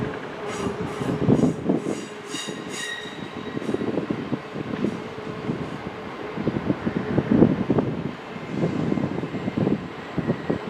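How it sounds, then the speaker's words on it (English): A Great Western Railway passenger train, unit 800-017, rumbles and rattles nearby as it pulls away from Bristol Temple Meads station, with rhythmic wheel clatter, a brief high whine early on, and steady loud mechanical noise. "Leaving now is the 12:30 Great Western Railway service bound for London Paddington."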